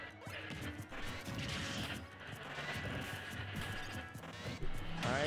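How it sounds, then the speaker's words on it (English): A crash bomb strikes in a Super Smash Bros Ultimate tournament match between Luigi and Mega Man, with a run of game hits and smashing impacts, a sharper crash near the end, and faint commentary beneath. "Gets hit with the crash bomb"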